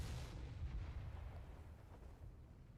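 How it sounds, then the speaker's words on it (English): A mortar fires in the strategy game Company of Heroes 3: one deep, muffled boom with a rumbling tail that fades out, fairly quiet and distant. "Mortar immediately going to work."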